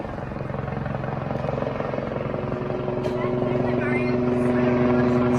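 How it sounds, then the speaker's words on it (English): A helicopter flying in circles about 400 feet above Glendale, its rotor chops and engine drone steady, growing slightly louder toward the end. "The pilot then began flying the helicopter in circles and eights just 400 feet above Glendale Homes."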